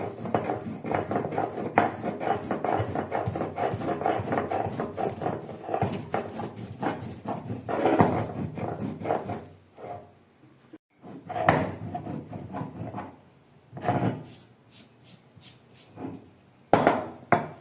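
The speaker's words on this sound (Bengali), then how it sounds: "এবারে আমি এই মশলাটাকে একটু বেটে নিচ্ছি শুকনো" Dry cumin ground by hand on a grinding stone for a Bengali singi fish curry, rhythmic scraping and knocking strokes, close and repetitive, that pause and resume in uneven bursts with no talking.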